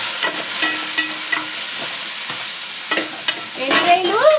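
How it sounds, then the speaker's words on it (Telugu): Prawns frying in a pan sizzle continuously at close range, with scattered clinks from stirring and a few brief whistling tones near the end. "రొయ్యలు బాగా వేగిపోతున్నాయి"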